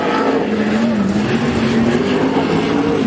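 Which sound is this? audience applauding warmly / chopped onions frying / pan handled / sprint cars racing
sprint cars racing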